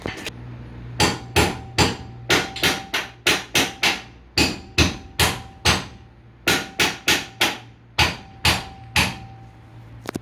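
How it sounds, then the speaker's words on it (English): Repeated sharp hammer blows ring against metal jacks, coming in quick bursts of two or three with short pauses, loud and close. "If you ever need to move jacks, just hit them with a hammer."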